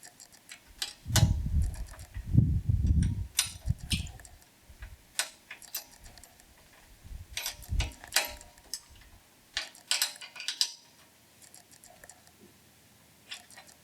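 Wrench tightening a lock nut with a backing washer while installing a step on a 2018 Ranger 520 boat, with close clicks, ticks and metallic clinks in irregular bursts and a few low thuds early on.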